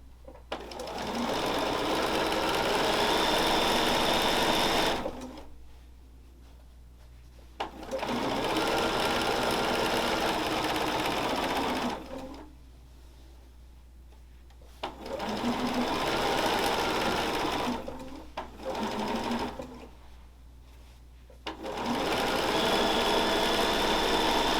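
A sewing machine stitches binding onto a quilt in several loud, close bursts of rapid mechanical whirring, each a few seconds long, separated by quiet pauses while the fabric is adjusted.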